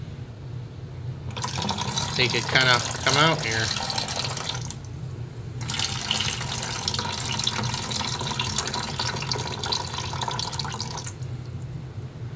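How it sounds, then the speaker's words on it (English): Plastic bag dipped into aquarium water, giving a steady wash of sloshing and trickling that runs through most of the stretch while a person talks over it. "I just take this little bag out and I dip it in water"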